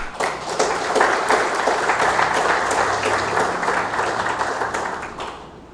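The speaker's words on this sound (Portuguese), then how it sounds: "a quem peço uma salva de palmas" Audience applause during a formal solemn session in a legislative chamber, a dense steady clapping that swells early and then holds evenly before tapering off at the end.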